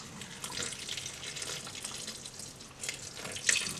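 Ice water poured from a pitcher with a strainer lid holding back the ice cubes, a short, bright splashing stream with some uneven gurgles and a sharper splash just before it ends.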